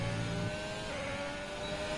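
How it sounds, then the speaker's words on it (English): Formula 1 car engine revving high in 6th gear through the second Lesmo at the Italian GP in F1 2020, a steady, loud sustained whine running continuously close up. "Second Lesmo, revs it out in 6th gear"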